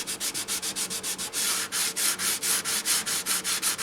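Rhythmic back-and-forth strokes of 400-grit sandpaper wrapped on a foam block smoothing a finish, about a dozen steady scrubbing passes, close and clear with no talking.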